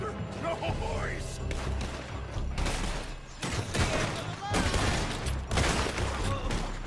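Gunfire in the Red Dead Redemption 2 video game, a dense volley of loud overlapping shots and thuds mixed with game voices and the player talking.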